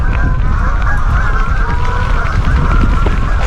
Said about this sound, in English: Wow, that's a lot of ducks.